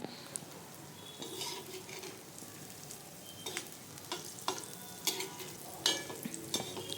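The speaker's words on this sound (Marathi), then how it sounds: "दोन्ही बाजूने आपण हे अशा पद्धतीनं शाडो फ्राय करून घ्यायचे आहे" Crispy colocasia-leaf rolls (alu vadi) shallow-fry on a flat tawa with a continuous soft sizzle, punctuated by scattered spatula taps and scrapes, close and fairly quiet.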